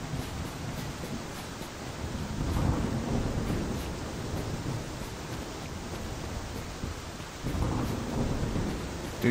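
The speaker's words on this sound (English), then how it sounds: "Feels like I'm gonna be hit by lightning" A survival-game thunderstorm with steady heavy rain hissing throughout, punctuated by low rumbling thunder swells, one mid-clip and another near the end, fairly close and enveloping.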